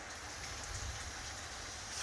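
Steady rain falling outdoors, a dense continuous hiss of drops pattering on surfaces, fairly faint and even throughout, with no voices.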